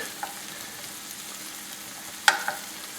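Garlic frying in a pan for chicken ramen gives a faint, steady sizzle, broken by a sharp clink of a utensil near the end. Nobody speaks.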